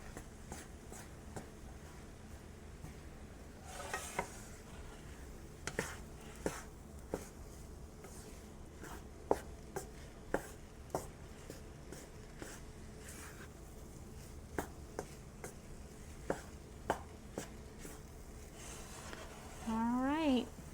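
Cauliflower fried rice with a teaspoon of toasted sesame oil being stirred in a pan or bowl: a long run of light scraping and irregular tapping clicks from a utensil, steady and fairly quiet, with some talking alongside.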